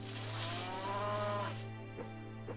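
Cattle moo on a farm in the game My Time At Portia: one long, loud, drawn-out bovine call, followed by two shorter low grunts, with a steady hum underneath.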